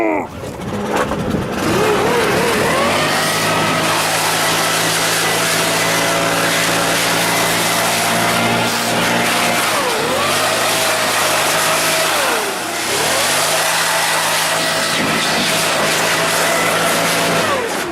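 A handheld air compressor runs loudly and steadily near a car, its motor droning with a tonal hum that briefly dips and recovers twice before settling back into a constant whir, with no talking.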